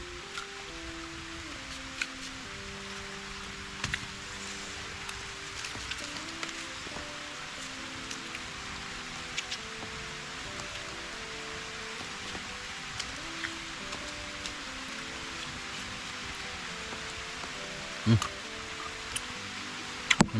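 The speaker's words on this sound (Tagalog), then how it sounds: "bumuhos bigla yung ulan" Rain pouring down steadily in a sudden downpour during a storm, a constant hiss of drops on surfaces with occasional ticks and taps, moderately loud and close, with faint voices in the background.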